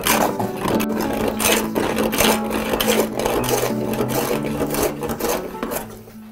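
A hand plane rasps across a wooden bench top in repeated strokes as it traverses the surface, each pass a loud, close, scraping shush with a short break between strokes.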